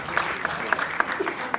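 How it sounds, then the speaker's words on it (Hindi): Brief burst of audience clapping at a teachers' gathering, with separate claps audible over a dense wash of hands, moderately loud and lasting just over a second. "जोरदार तालियां होनी चाहिए आपकी।"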